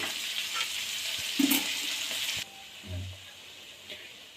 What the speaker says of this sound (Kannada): ನೀಟಾಗಿ ಕಂಪ್ಲೀಟಾಗಿ ಮಿಕ್ಸ್ ಮಾಡಿ